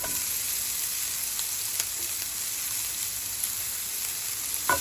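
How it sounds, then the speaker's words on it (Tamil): Chopped banana flower sizzles in a hot pan, a steady bright crackling fry with a few small clicks from stirring, fairly close and loud without any talking. "இந்த வாழைப்பூ கொத்தி வச்ச வாழைப்பூவை போடுறோம்"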